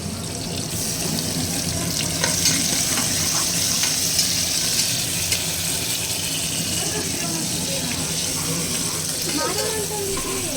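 Guinea fowl meat fries in a pan with chili and tomato, a dense constant sizzle with scraping stirs and clinks running throughout, close and fairly loud.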